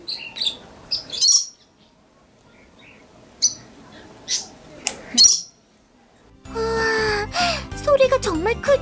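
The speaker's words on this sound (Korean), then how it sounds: "앵무새들이 먹는 소리도 궁금하지 않아?" A parrot cracks seed shells with its beak and feet: a few sharp, crisp cracking snaps come close up with quiet pauses between them, followed by a burst of chattering vocal sounds.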